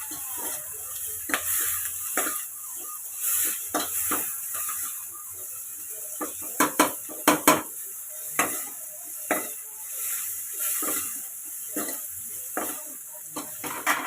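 Tomato frying in a pan for Mangalore-style fish sambar gives a steady hiss and sizzle, broken by sharp scraping stirs and spoon knocks, closest and loudest around the middle, with almost no talk.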